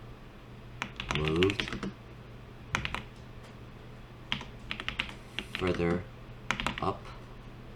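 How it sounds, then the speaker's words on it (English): Keys clatter on a computer keyboard in quick, uneven bursts, close and fairly quiet, separated by short pauses, with someone talking softly in between. "I'm gonna type in top down,"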